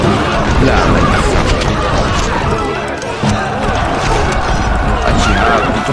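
Horses neigh and gallop in the Stronghold Crusader strategy game, loud whinnies over a busy clatter of hooves and battle noise, with a voice speaking over it.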